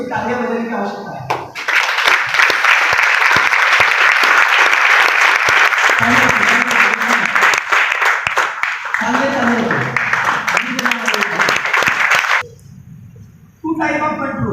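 An audience at a farming talk bursts into loud, sustained clapping after a man's speech, the applause filling most of the stretch before cutting off, with talking before and after.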